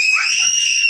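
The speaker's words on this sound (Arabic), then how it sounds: "الولد بيصرخ كده" A child lets out a loud, piercing, sustained high-pitched scream, very close and alone, lasting just under a second.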